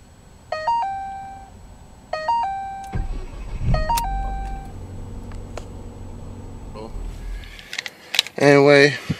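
A Ford car's startup chime sounds three times as a short rising series of bright dings, followed by the engine turning over into a low, steady idle. A voice speaks briefly near the end.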